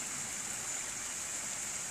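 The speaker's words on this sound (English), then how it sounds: "It is wild that the water's still flowing." A stream flows through snowy winter woods in bitter cold, a steady, soft rushing of water heard alone at low volume without any breaks.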